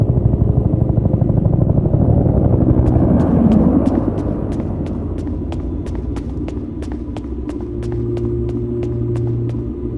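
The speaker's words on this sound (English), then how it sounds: "Is that the evac chopper?" Heavy low rumble of an evac helicopter's rotors in the horror video game Peridium, with a sharp rhythmic ticking rising over the drone partway through, loud and steady.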